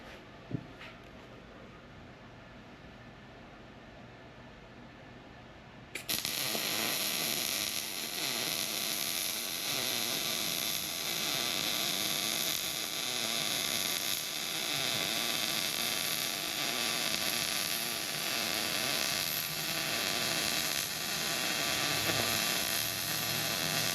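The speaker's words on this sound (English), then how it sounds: "So now I can weld here." A welder runs a bead on steel trailer ramps: after a few seconds of quiet hum, a loud, steady, crackling hiss starts abruptly and continues unbroken close by, with no talk.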